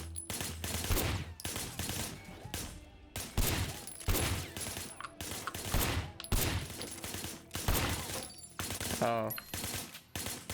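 Rapid bursts of video game gunfire crack out repeatedly in loud volleys, like a firefight at a barricade, with brief gaps between shots and a short exclamation from a voice.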